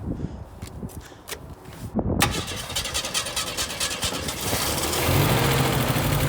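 A car engine fuelled with moonshine cranks in a few uneven bursts, catches with a sharp burst of noise and then settles into a loud, rough, steady run.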